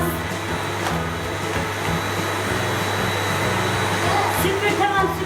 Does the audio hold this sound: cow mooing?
no